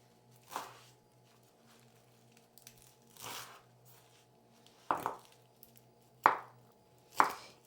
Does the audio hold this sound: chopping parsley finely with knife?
yes